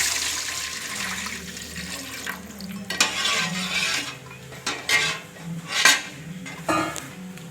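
Water is poured from a glass into rice being cooked for prawn biryani, about 3.25 glasses for 2.5 glasses of rice, with splashing pours and several sharp clinks of vessels and utensils in a kitchen.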